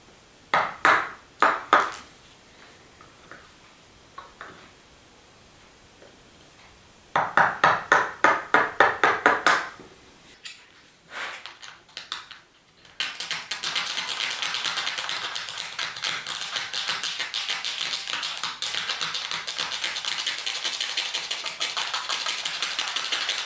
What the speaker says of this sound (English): And then just take a little chisel.